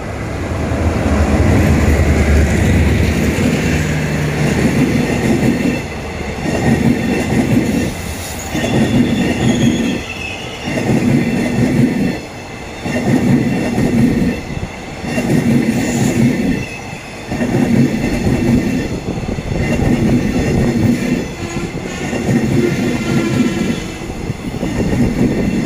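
Special express train 31, hauled by Hitachi locomotive 4511, pulls into Ban Pong station in Thailand with loud rhythmic wheel clatter, metallic squeals and a heavy rumbling pulse as the cars roll past close by.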